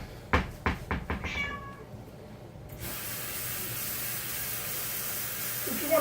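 Domestic cat meowing in a home kitchen, a few short close calls in quick succession, followed by a steady hiss of background noise.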